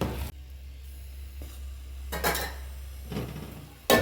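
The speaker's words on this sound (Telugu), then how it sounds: "మిక్స్ చేసుకోవాలి, లేదంటే అడుగంటుకుంటుంది." Rice payasam (paramannam) stirred in a pot with a metal spoon, a few close scraping and clinking strokes against the pot with a low simmering hiss between them and no talking.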